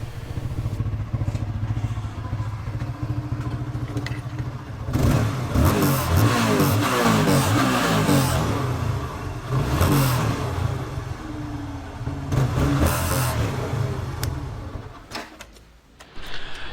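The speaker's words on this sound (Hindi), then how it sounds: "Finally, throttle response is back, no misfires, no nothing" A TVS Apache RTR 180 motorcycle with a freshly cleaned carburetor and petrol tank idles and then revs several times. The throttle blips swell loudly over a steady running engine nearby.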